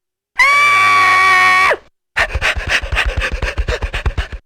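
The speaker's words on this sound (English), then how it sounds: "and fled screaming down the street." A girl's long, high, sustained scream as she flees in a Living Books animation, loud and close and lasting over a second, then after a short pause a quick series of rhythmic scraping, rasping thumps.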